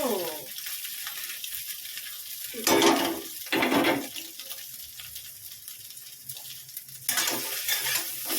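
Vegetables and chow mein noodles tossed in a hot pan at home, a steady close sizzle of frying broken by a few louder bursts of scraping and stirring with a utensil.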